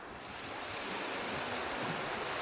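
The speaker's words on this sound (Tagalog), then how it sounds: "yung mga alon na yan," Ocean waves at sea off Jomalig island roll in a steady, broad wash of surf with wind noise, continuous and fairly faint, no voices.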